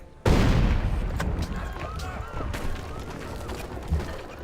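A single heavy cannon shot in Civilization 5 hits suddenly, then rumbles and fades with scattered softer crackles and thuds trailing off.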